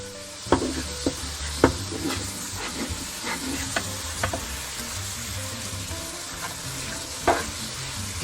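Pork humba with vinegar cooks in a pan, giving a steady low simmer and sizzle broken by a few sharp stirring knocks and scrapes.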